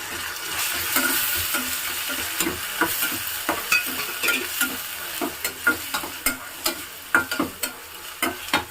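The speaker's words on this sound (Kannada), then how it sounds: "ಈರುಳ್ಳಿ ಬೆಳ್ಳುಳ್ಳಿ ಹಾಕೊಂಡಿದ್ದೀನಿ ಚೆನ್ನಾಗಿ ಫ್ರೈ ಆಗಲಿಲ್ಲ ಫ್ರೆಂಡ್ಸ್ ಈಗ ಚೆನ್ನಾಗಿ ಫ್ರೈ ಆಗಿದೆ" Onion and garlic frying in a pan with a steady sizzle, broken by repeated sharp scrapes and knocks of a spatula stirring, the strokes growing more frequent toward the end; no voices.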